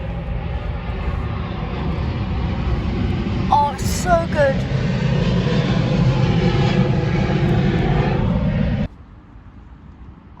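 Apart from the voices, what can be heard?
airplane passing at Heathrow airport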